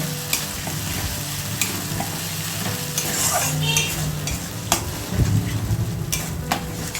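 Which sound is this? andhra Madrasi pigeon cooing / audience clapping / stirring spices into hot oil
stirring spices into hot oil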